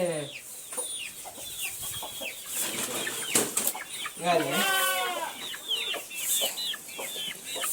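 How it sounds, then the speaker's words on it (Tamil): Chickens and young chicks cluck and chirp on a mixed farm, with steady overlapping calls close by and some louder squawks in the middle. "கோழி குஞ்சா புதுசாக வாங்கிக்கிறீங்க"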